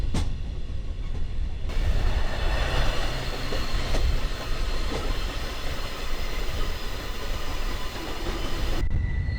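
Glacier Express train running through snowy Swiss mountain terrain toward Oberalp Pass, a steady loud rumble of rolling wheels and car noise filling the whole stretch with faint rhythmic clatter, no voices.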